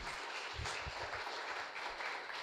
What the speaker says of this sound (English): let's give it a round of applause to the panel